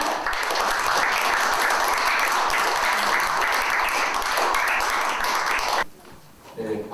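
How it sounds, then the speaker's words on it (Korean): A forum audience gives a sustained round of loud applause welcoming a former lawmaker to the stage for a lecture on North Korea, steady and dense for about six seconds before cutting off sharply into near quiet. "태영호 의원님 앞으로 모실 때에 큰 박수로 환영해 주시기 바랍니다."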